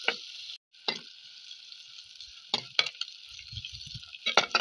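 Two slit green chillies frying in a pan with steady bright oil sizzle and a few spatula scrapes and clinks, close and continuous, with no talk.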